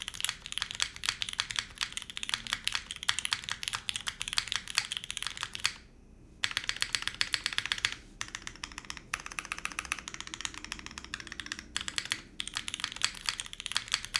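Rapid clacking of a 60% mechanical keyboard typed continuously up close, with a brief pause midway before the steady keystrokes resume.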